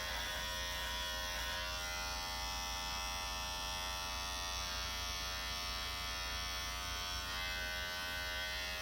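A steady electric trimmer buzzes close by as hair around the lips is trimmed, a continuous whine lasting about nine seconds with no speech over it.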